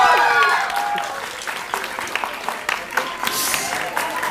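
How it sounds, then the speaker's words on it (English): A large audience at a sustainability startathon grand finale at Mount Carmel College claps and cheers for Hari sir, dense sustained applause with shouts and whoops rising over it, loud and close throughout. "Let's hear a big cheer for Hari sir from those in CMR"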